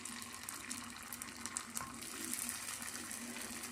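Oil and ghee are poured into a pan for frying banana cutlets, giving a steady, soft liquid hiss and sizzle with faint clinks, close and continuous, with no talking.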